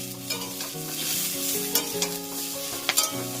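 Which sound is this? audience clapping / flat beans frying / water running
flat beans frying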